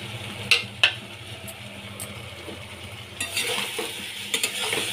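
Fried potatoes being stirred into a ridge gourd and potato posto dish in a pan: a few sharp spoon scrapes early on, then a soft sizzle that swells toward the end, with no voices.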